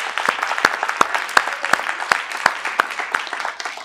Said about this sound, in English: give Hayward them another hand clap